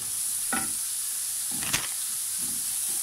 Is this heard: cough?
no